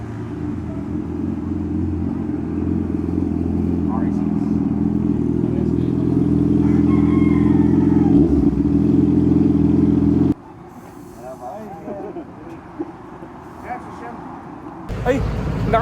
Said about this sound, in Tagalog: At ito na nga si Shem, dumating na. Narinig na namin yung ugong.